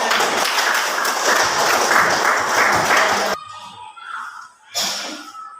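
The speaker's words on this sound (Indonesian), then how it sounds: "kita tepuk tangan untuk kelompok B." Classroom of students applauding for group B during a lesson, a dense burst of many hands clapping together for about three seconds before it cuts off into quieter room sounds and a brief rustle.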